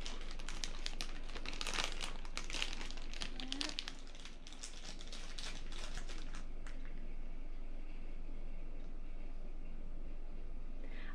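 Plastic packaging around an anime figure crinkles and crackles as it is unwrapped, a dense, close rustle that is busiest early and then settles into a quieter, steady rustle, with no voices.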